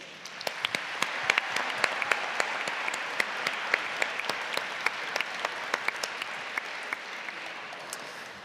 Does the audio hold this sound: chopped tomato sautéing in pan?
no